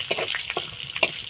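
Black mustard seeds and curry leaves tempered in hot oil and tipped into a chutney give a brief, quiet sizzle with a few sharp crackling pops.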